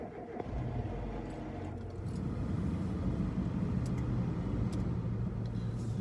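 Getting into an old, high-mileage car with 140,000 km on it and driving off: a door thump and rustle, then a low engine hum and road rumble building steadily, fairly quiet and close.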